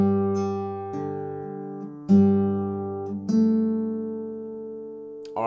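Acoustic guitar plays the second bar of the Danish song "Solen er så rød, mor" as four plucked notes with a bass line, each ringing out before the next, clear and close with no talking.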